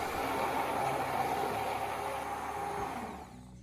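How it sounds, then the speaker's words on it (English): A blender whirs steadily, blending oil, passion fruit and mayonnaise into a salad dressing; the motor drone stays loud and continuous, then eases off toward the end. "Use a blender and blend until the oil and passion fruit mixture come together."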